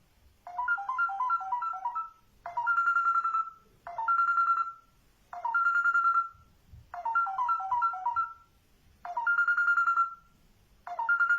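A pet bird imitates mobile phone ringtones, repeating loud, clear chirpy melodic phrases in regular bursts with short silent gaps between them.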